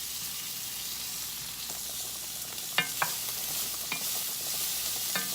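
Potatoes and onions fry in a pan with a constant bright sizzle, broken by a few soft scrapes and stirs of a utensil, no voices.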